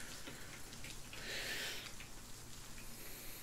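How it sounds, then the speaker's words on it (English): Heavy rain in the video game ARMA 3 falls as a steady, dense hiss of drops, even and unbroken throughout with no voices over it. "this rain's getting pretty heavy"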